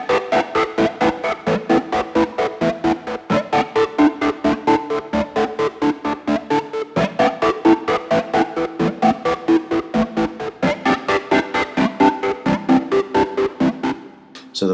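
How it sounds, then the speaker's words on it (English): Rhythmic gated tone from an Axe Fx processor, a volume block chopped by a square-wave LFO and eight-stage sequencer, pulsing in rapid even bursts with shifting pitches, loud and steady with no talk. "So the volume block is creating the gating effect, because LFO1 is set to a square wave"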